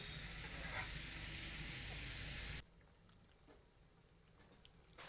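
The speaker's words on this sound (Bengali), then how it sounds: "ঝোলটা ফুটে গেছে" Lote fish curry gravy boils in a pan with a busy, hissing sizzle that is loud at first and then drops suddenly to a quieter simmer with faint pops. There is no talk.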